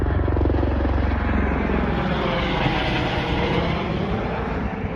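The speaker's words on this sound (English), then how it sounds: "That's one of the tour helicopters up here." A tour helicopter passes overhead near Tucson, Arizona, its steady loud rotor chop and engine drone filling the whole stretch without voices.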